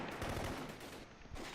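Soviet tank and machine gun fire striking troops in the Close Combat war game, a dense rumbling barrage of shots and impacts, continuous and fairly loud.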